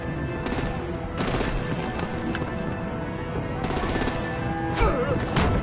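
Gunfire in the Batman: The Enemy Within video game: repeated bursts of shots over a dense, continuous action backdrop that stays fairly loud throughout, with voices faintly mixed in.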